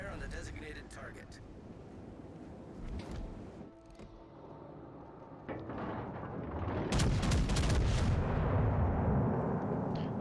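Battleship main guns fire in a naval combat video game, booming blasts with rumbling reports that swell louder toward the end, heard over game sounds and a talking voice.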